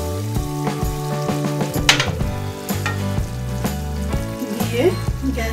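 Chicken with slit green chillies and ground black pepper sizzles in a pan for a spicy lemon chicken. The frying is loud and constant, broken by repeated clinks and scrapes of stirring.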